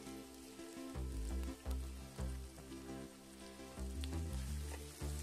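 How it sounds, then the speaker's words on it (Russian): Bell pepper fries in a kazan over a campfire, giving a steady sizzle with crackling bursts and low rhythmic thumps, quiet and continuous. "Далее будем начинать жарить болгарский перец."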